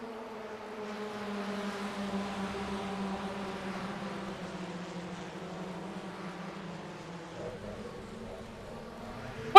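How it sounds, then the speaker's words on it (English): Ford FF1600 open-wheel race car engines in iRacing at the Red Bull Ring, a pack of about nine cars buzzing steadily at a distance as a continuous droning whine with shifting pitch throughout. "These little Ford engines aren't even Fords anymore."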